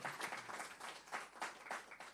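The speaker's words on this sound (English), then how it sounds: "Give her another round of applause, please." Quiet, distant audience applause at a poetry and song competition awards ceremony in Jamaica, a short steady patter of clapping heard faintly.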